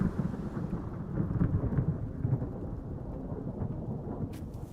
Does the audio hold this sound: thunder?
yes